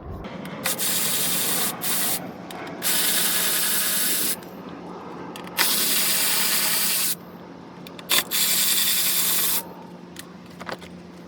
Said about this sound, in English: Then we go ahead and remove this air dam. You have 4 10mm bolts.